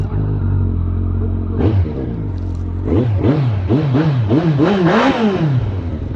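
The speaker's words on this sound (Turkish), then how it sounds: "Hadi bakalım önce size egzozu dinleteceğim." A Kawasaki GTR1400 motorcycle engine idles with a deep rumble, then revs repeatedly in sharp, loud bursts, the exhaust note rising and falling close by.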